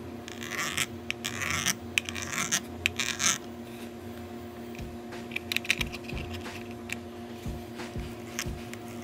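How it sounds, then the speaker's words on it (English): A knife cuts up ham and cheese for an omelette on a board, with soft scraping strokes and dull repeated thuds close by over a steady kitchen hum. "Next, we're gonna cut up the ham and cheese."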